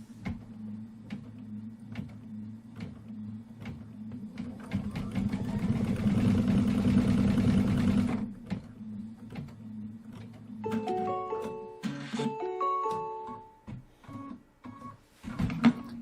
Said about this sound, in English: let's stitch out the doorknob